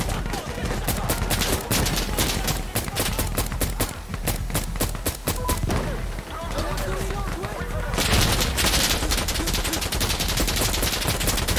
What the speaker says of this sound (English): I don't even know what you guys are shooting at the moment.